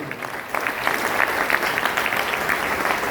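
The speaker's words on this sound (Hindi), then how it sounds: "अगर आप चाहे तो खड़े होकर तो ताली बजाइए, जोरदार तालियां बजाइए।" An indoor audience at a direct-selling and network-marketing event breaks into steady, dense applause that carries on throughout at moderate loudness.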